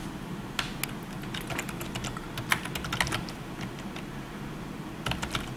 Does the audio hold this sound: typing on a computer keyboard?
yes